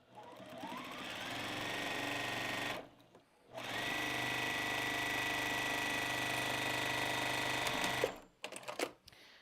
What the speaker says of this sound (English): I'm rotating 90 degrees and I'm sewing all along the bottom